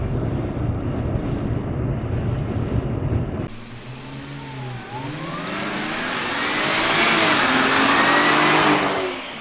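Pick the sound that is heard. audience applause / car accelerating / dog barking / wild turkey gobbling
car accelerating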